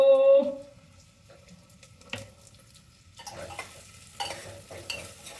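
Potatoes go into a pan and fry alongside onion in a home kitchen. A brief tone opens the clip, then a faint, intermittent sizzle and light clatter of stirring follow, with no talking.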